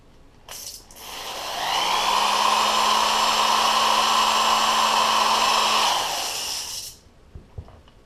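A power drill spins up and runs steadily for about five seconds while reaming brass primer pockets, a loud, close whirring whine that then winds down, followed by a few small clicks.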